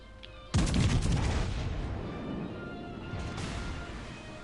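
A warship's guns fire in a naval battle video game, with a loud sudden boom followed by a rolling rumble and a second, softer blast a few seconds later, with no talking.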